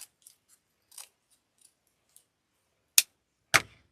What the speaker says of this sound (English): Cut at the bottom.